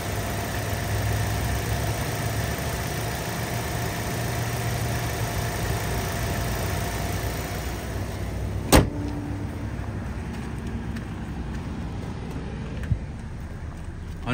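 The 1.6-liter Ecotec engine of a 2010 Chevy Aveo with an automatic transmission runs at idle, a steady low hum heard up close. A single sharp click cuts in partway through, after which the sound is quieter.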